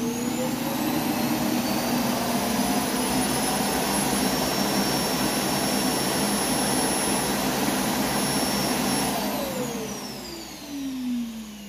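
An iRobot Roomba s9+ robot vacuum runs with a loud, steady motor whine and suction roar, close by and continuous, its pitch shifting slightly near the end as it maneuvers around objects.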